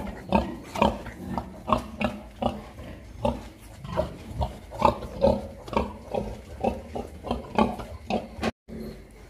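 Pigs grunt and oink steadily in a farrowing pen where a sow is giving birth to piglets, a close, rhythmic series of short snorts with faint clatter beneath and no talk.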